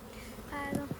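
Honey bees on a beehive frame give a brief buzzing drone that rises in the second half, with a couple of close wing bursts near the end, fairly faint and without talk.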